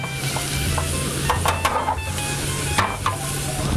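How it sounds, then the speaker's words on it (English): Spinach stirred in a pan of hot bacon fat, a steady close sizzle with scraping stirs and a few clicks of the utensil against the pan, under a low background hum. "Get that spinach all nice coated with the bacon fat."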